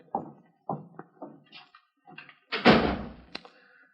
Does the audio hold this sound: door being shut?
yes